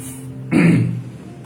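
A man clears his throat once during a spoken religious talk, a short rough burst that rises quickly and fades within half a second, close to the microphone.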